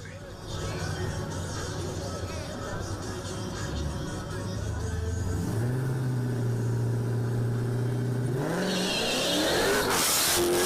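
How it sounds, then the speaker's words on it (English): A powerful drag race car with a Hellcat engine rumbles loudly at a drag strip, then revs up sharply in pitch as it accelerates, with crowd chatter underneath. "he's probably got a Hellcat engine in that car"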